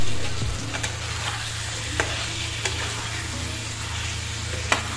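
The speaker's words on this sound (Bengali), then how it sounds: "এখন এইভাবে মাটনটাকে আরও 10 মিনিট ভালো মতো কষতে দেবো" Mutton frying with spices in a pan, a continuous close sizzle broken by a few sharp clinks and scrapes of a stirring utensil, with a low steady hum underneath and no voices.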